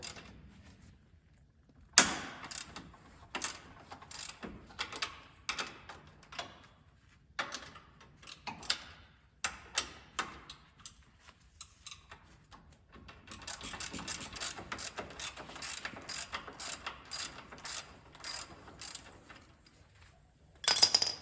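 A ratchet wrench works a 15 mm nut on a side-by-side's upper ball joint, giving bursts of quick clicking separated by pauses and then a longer steady run, close and fairly quiet with no speech.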